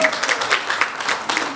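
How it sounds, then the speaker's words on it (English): An audience at a girls-in-ICT awards evening in Malawi claps for an award winner, a dense burst of applause with sharp overlapping claps, loud and close. "A huge round of applause for her."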